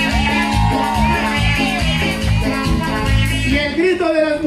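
A crowd of women at a birthday party show shouts and whoops loudly together over pounding, rhythmic party music with a steady beat.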